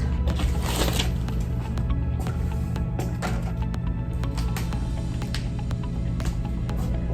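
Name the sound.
drawing a diagram of the wrist bones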